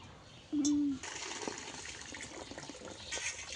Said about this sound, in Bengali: মাছগুলো এখন ধুয়ে নিচ্ছি